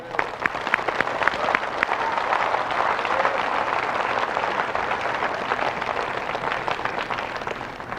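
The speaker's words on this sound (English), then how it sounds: "And all of us here applaud you for that." A large audience bursts into applause, loud and dense at first with sharp individual claps, then settling into a steady even roar of clapping that carries on for about eight seconds.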